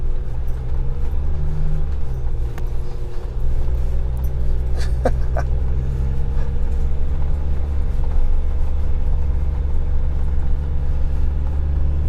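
A 2019 Jeep Wrangler drives off-road with a steady low engine rumble and drone throughout, with a few brief knocks and rattles from the terrain and no talking.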